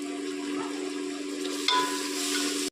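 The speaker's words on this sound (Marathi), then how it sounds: "मी मसाला सोडते याच्यामध्ये, मसाले फ्राय झाले" Masala spices fry in a pan with a steady, close hiss and soft crackle, a faint whine running underneath, ending abruptly.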